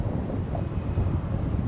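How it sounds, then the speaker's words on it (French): Steady wind buffeting the microphone at a coastal lookout along the Camino del Norte, a continuous low rumbling roar with no speech, filling the whole moment at close range. "Il y a un peu de vent."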